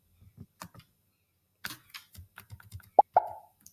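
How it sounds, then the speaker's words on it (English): Sounds from a Scratch maze game: a sharp cartoon pop stands out near the end among quiet scattered clicks and taps of mouse or keyboard, with no voices. "made the popping sound and it stopped all"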